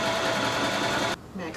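A sewing machine stitches bikini fabric in a fast, dense, steady whir, then cuts off abruptly near the end, leaving a quieter pause.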